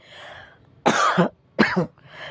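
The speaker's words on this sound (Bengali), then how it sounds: "কথা বলতে বলতে কাশি হয়ে যাচ্ছে আমার" A woman coughing close by, two loud harsh bursts following a softer throat sound, separated by brief silence.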